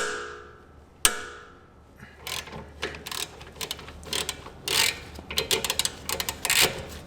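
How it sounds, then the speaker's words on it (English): Ratcheting and metallic rubbing as a 13 mm socket works the bolts off a rear brake caliper on a Grand Caravan, a sharp knock near the start then repeated short clicking bursts, close and uneven, no talk. "I'm going to remove the top and the bottom bolts."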